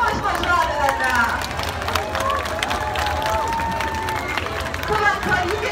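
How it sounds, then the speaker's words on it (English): A sea lion show audience at West Midland Safari Park claps and cheers steadily, a crowd of applause and scattered shouts with chatter and a presenter's voice mixed in. "So let's have lots of clapping, lots of cheering, as Cod does make his way up."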